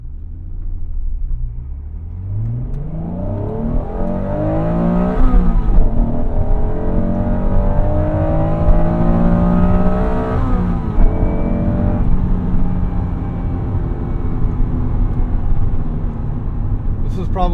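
A 1996 Acura NSX-T accelerates from 0 to 60, heard from inside the car, with its engine climbing in pitch and dropping briefly at two gear shifts as it pulls hard.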